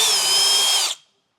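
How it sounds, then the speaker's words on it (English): A power drill whines steadily at high speed while boring a hole through a vehicle frame, close and loud, then cuts off abruptly after about a second. "Then we'll drill through."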